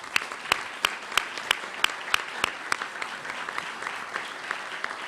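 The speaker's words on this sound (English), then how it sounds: "If you guys could stand up, we'll give you a round of applause." Luncheon audience applauding journalism award winners, scattered individual claps ringing out distinctly at a regular pace over a softer bed of clapping, fairly faint and continuous.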